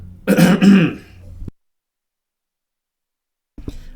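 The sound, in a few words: throat clearing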